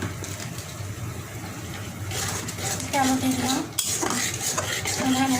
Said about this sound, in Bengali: মশলাটা খুব ভালো করে কষিয়ে দিচ্ছি